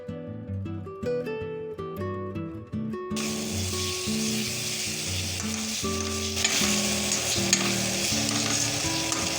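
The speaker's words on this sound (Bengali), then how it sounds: "কিছুক্ষণ নাড়ার পরে কাজু, মগজদানা, পোস্ত ও টক দইয়ের পেস্টটা দিয়ে কষতে থাকবো।" A cashew, poppy seed and yogurt paste fries and sizzles in a pan while being stirred. The sizzle is loud and continuous under a melodic music backing.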